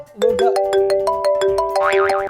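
A bright, melodic electronic ringtone plays a short tune of rising and falling notes, loud and close.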